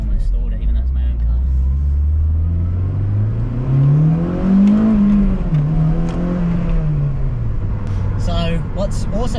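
A Honda Civic Type R DC5 engine revving hard, pitch climbing steadily toward a peak before dropping with a shift and settling, loud and close from inside the car with someone talking over it.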